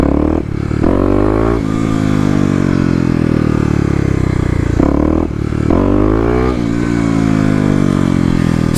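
A Kawasaki KLX250 dirt bike with a tuned fuel controller revs hard through first-gear power wheelies, its engine note climbing and dropping in repeated surges, loud and close.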